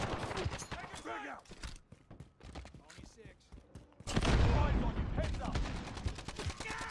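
Repeated shotgun and automatic gunfire in Modern Warfare, a rapid volley of sharp shots followed by a heavy boom and continuing blasts, with a voice talking over parts of it.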